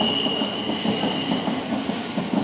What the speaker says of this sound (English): So my train has arrived.